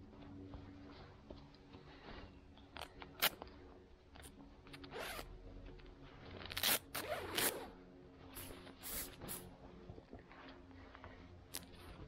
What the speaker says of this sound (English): With a double zipper then.